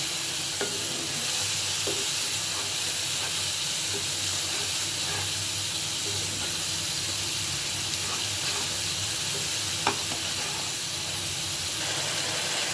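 Ground spices (chili, cumin, coriander and turmeric with salt) fry in a pan for a shrimp dopiaza, making a steady, fairly quiet hiss and sizzle throughout, with occasional light stirring clicks.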